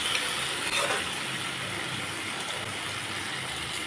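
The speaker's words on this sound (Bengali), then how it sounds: "এই যে সবজিগুলোর সাথে আমি মশলা ভালোভাবে কষিয়ে নিলাম।" Vegetables and spices being fried down in oil for a whole-fish chorchori curry, a steady close sizzle that holds through the clip with a few faint scraping stirs and no talk.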